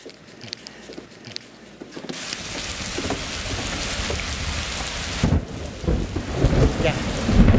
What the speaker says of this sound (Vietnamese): Ở ngoài mưa to dữ vậy em?